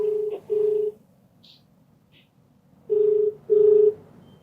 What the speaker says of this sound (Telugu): అయితే నేను కాల్ చేస్తానండి